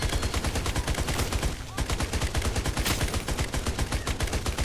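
Sustained rapid automatic gunfire with heavy recoil in the video game Holy Shoots: a steady, fast, loud string of shots with only a brief gap partway through.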